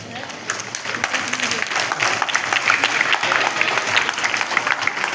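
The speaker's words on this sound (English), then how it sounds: "let's welcome them with big round of applause" An audience welcomes performers at a school-style gathering with sustained clapping that builds and holds loud and close, with some voices mixed in.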